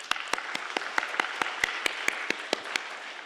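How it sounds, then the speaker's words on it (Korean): Congregation clapping in a Korean church service, a rhythmic, evenly spaced beat of many hands in unison, roughly four claps per second, over a soft background wash. "우리 다 함께 축복의 박수를."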